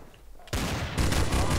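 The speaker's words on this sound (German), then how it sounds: "Zwei Schüsse oder was?" Gunfire rings out in Trouble in Terrorist Town, a Garry's Mod game mode: a loud burst of game shots begins abruptly after a brief lull, then a second heavier volley follows, dense and sustained.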